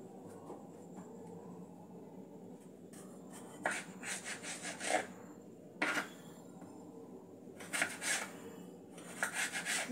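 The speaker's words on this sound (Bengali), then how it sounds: "টমেটোটা একটু স্লাইস করে আমি কেটে নেব।" A kitchen knife slices a tomato on a board during home curry preparation, giving several separate bursts of close, rasping cuts with quiet pauses between them and no talking.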